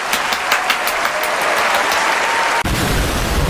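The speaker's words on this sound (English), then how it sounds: "Let's have a round of applause." Loud crowd applause marking a subscriber milestone, dense clapping that runs steadily for a few seconds before dropping out abruptly and being replaced by a duller, muffled wash of clapping.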